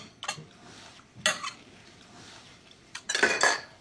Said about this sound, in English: Moving our lobster around a little bit in there